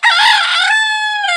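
A loud, close rooster crowing sound effect rings out as a single drawn-out cock-a-doodle-doo call on its own.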